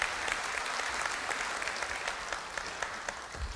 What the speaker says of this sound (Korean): 큰 박수로 마동훈 미래전략실장을 환영해 주십시오.